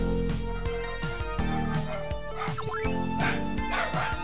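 A dog barking in a video game, with repeated short, punchy barks and yips against a steady game soundtrack, loud and close, with no talk.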